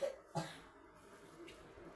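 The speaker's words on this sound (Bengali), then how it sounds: "তোর কাশি ভালো হইতো না না" A person gives a couple of short, faint coughs indoors, separated by quiet background.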